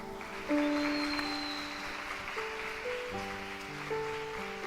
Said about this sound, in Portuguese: E eu queria que você saudasse uma salva de palmas.